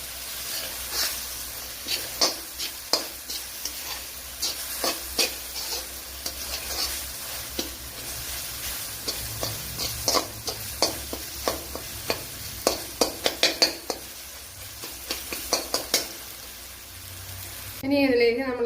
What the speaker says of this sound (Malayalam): ഈ കാഷ്യൂനട്ട് ഒന്ന് ഫ്രൈ ചെയ്തെടുക്കണം.